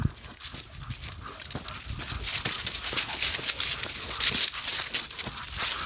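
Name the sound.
puppy moving around near the speaker's feet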